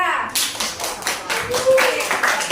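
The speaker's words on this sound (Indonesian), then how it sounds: "tepuk tangan untuk Dendra" A classroom group of students claps for a classmate, a lively patter of uneven hand claps that fills the whole moment, with children's voices mixed in.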